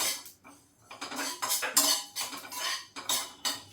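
Poppy seeds are dry-roasted in a pan, with a utensil scraping and clinking against the metal in irregular bursts, close and quiet, and no one speaking.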